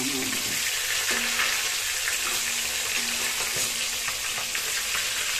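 Tilapia fries in mustard oil in a Bengali kitchen, a steady dense close sizzle running throughout with occasional clinks.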